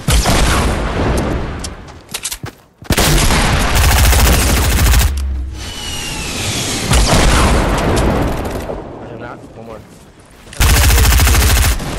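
Fortnite gunfire comes in loud, dense bursts of rapid shots and booms during a match, broken by brief gaps. The firing is close and heavy.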